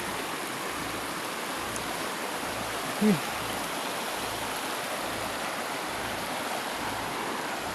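Steady rush of flowing water, loud and continuous like a stream, with a brief spoken word partway through.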